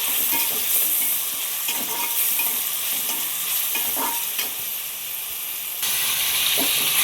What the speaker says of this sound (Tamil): தக்காளி வந்து நல்லா கரையும் வதங்கிடணும்.